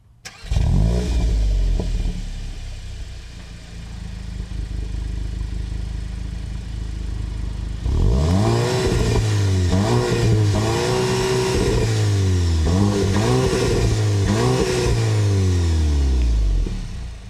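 A 2025 Volkswagen GTI engine cranks and catches, idles with a low steady rumble, then revs up and down in a series of deep, throaty bursts.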